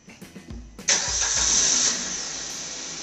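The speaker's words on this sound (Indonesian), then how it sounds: "kita lanjut untuk tahap memanaskan mesin" A car engine cranks with a few short turns, then catches and roars into a loud, steady high-pitched run before settling to a quieter idle as it warms up.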